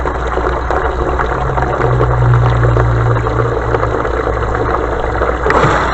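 A newly replaced automatic bilge pump runs and squirts out water in a loud, steady churn over a low motor hum, with a brief stronger surge midway, close up and without talk.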